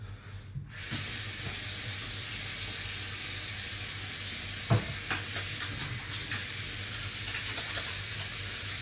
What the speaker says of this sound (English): Wash your goddamn hands